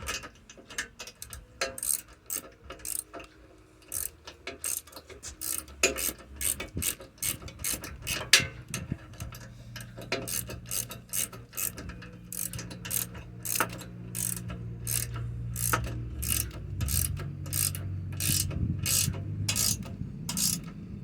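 A hand ratchet clicks in rapid repeated bursts while tightening the final bolt on a vehicle bumper being installed, with a low mechanical hum running beneath the close, sharp pawl clicks throughout.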